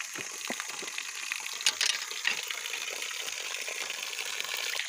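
Natural spring water flowing in the mountains, a steady close trickling and gurgling stream with a few brighter splashes, no voices over it.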